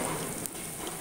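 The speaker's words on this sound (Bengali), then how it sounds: "এবার আমি একটু ডাটা আর এই আলুটা একটু ভেজে নেব।" Potato pieces and vegetable stems fry in a pan with a steady, close hiss and sizzle over one brief moment.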